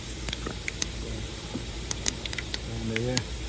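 Mustard seeds hit a hot pan at an outdoor camping cookout for a vegetable roll recipe, giving off a soft hiss with scattered sharp pops and crackles, and a voice speaks briefly near the end.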